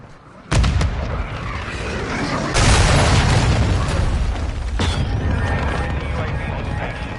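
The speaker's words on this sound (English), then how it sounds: "Hostiles launched a cruise missile." A cruise missile strike in Modern Warfare 2 lands with a sudden heavy boom, followed by a second blast and a long rumbling roar of impacts and debris, with faint voices underneath.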